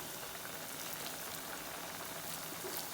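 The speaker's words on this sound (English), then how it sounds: "My plantain is frying over there" Plantain frying in a pan beside Nigerian rice and beans jollof, a steady, faint, even hiss of hot oil with no talk.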